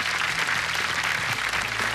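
A TV band competition crowd applauds for a performing band, a continuous, fairly loud wash of clapping with low music or rumble underneath, heard alone without talk.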